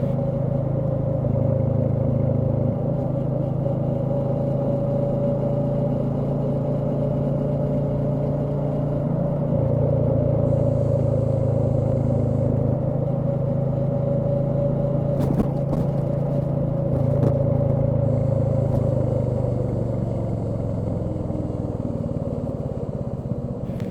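A Royal Enfield Meteor 350 motorcycle cruising gently along a road, its engine a steady, continuous drone with low rumble and wind, close and loud throughout with no talking.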